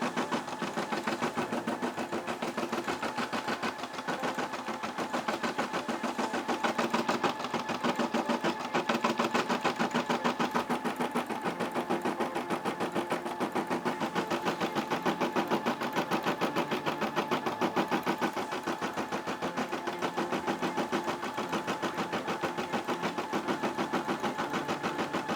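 A Brother SE600 embroidery machine stitches out a turkey design with a steady, fast mechanical whir and needle chatter, holding constant and fairly quiet for the whole stretch, with no talk.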